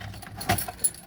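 Car keys jangle and clink as someone hunts through a set for the right one on a Ford ZK Fairlane, a few short metallic rattles close by over a quiet room.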